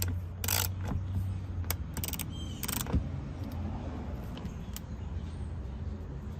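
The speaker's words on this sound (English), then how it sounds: "we'll take a 10mm and undo this bolt here" A ratchet wrench with a 10mm socket clicks in short bursts while undoing a tight bolt on a 2016-2020 Honda Civic, the quick metallic ratcheting close but fairly quiet over low background hum.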